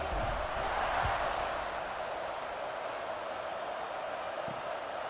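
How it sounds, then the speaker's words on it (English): A stadium crowd in the College Football 26 video game, during a Houston dynasty game, keeps up a steady, dense roar that stays at an even level, with no talk over it. "this crowd is buzzing after that last score"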